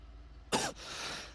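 A single harsh cough bursts out inside a car, loud and close for about a quarter second, then fades into a steady hiss of road and cabin noise.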